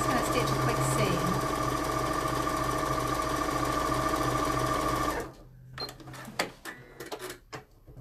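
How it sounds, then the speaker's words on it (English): A sewing machine fitted with a walking foot stitches a quick seam in scuba fabric, running loud and steady with a rapid mechanical whir for about five seconds, then stopping abruptly, leaving scattered handling clicks and faint clatter. "Just going to stitch a quick seam."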